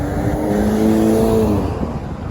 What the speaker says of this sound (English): There's a very posh car here.